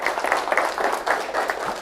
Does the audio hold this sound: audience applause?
yes